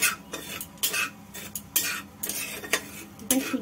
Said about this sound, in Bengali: প্রথমে সুজিটাকে শুকনো করে নেড়ে নেব